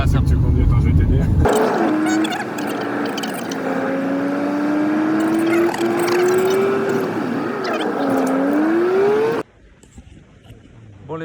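A car climbs a mountain road in the Vanoise Alps near Pralognan-la-Vanoise, its engine drone rising and falling in pitch over several seconds before cutting off abruptly, with voices present.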